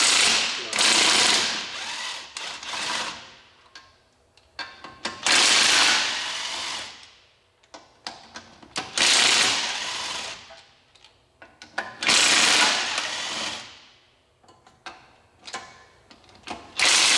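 Power tool with a 9/16 socket spinning out spindle bolts on a Roxor, in several loud bursts of whirring and rattling hammering separated by short pauses.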